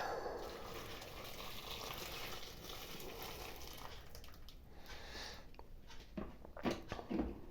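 Water poured from a container over cut potato pieces in a bowl, a steady splashing gush that runs for several seconds before thinning into lighter trickles and drips near the end, close up with no talking.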